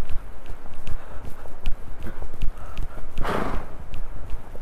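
A young colt's hooves clip-clop steadily on the ground during a reining lesson, with regular walking or trotting footfalls close by and a brief puff or snort partway through.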